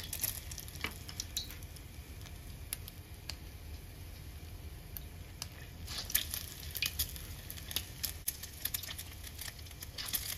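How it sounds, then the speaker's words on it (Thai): Egg-dipped bread topped with shrimp deep-fries in hot oil as Thai shrimp toast, giving a steady, close crackling sizzle with scattered sharp pops throughout. "ชุบเสร็จแล้วก็เอาลงไปทอดได้เลยนะคะ"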